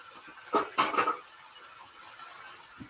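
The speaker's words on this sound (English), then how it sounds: "So now we're going to chuck the onion and the mushrooms into the pan as well." Onion and mushrooms tossed into a frying pan for a Kerala-style chicken curry, heard as a quick run of three or four close metallic clatters and scrapes, followed by quiet.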